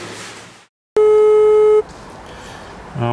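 A phone call on a mobile in an abandoned Warsaw housing estate rings out, cuts to brief silence, then gives one long steady electronic tone as it drops to voicemail, followed by faint hiss and a bit of noise.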